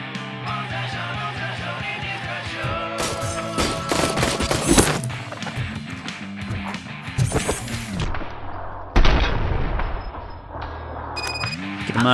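Gunfire in the RoboCop: Rogue City video game: loud bursts of rapid automatic fire and impacts, mixed with a tonal game soundtrack and people talking.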